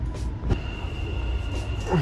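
A Dubai Metro train rumbles steadily at Burj Khalifa metro station, a continuous low rolling drone with a thin whine and a brief clack near the middle, no talk.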